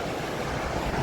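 Ukshi waterfall near Ratnagiri in the monsoon, a steady broadband rush of falling water that fills the whole second at an even, loud level with no speech.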